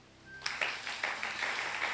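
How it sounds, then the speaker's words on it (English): A church congregation clapping hands during a sermon, a burst of applause that starts suddenly and swells into steady, dense clapping from many people across the room. "Clap your hand."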